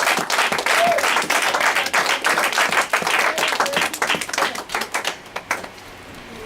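A church congregation applauding to acclaim Jesus during a Pentecost-week prayer service, dense rapid clapping from many hands that thins into scattered claps and fades near the end.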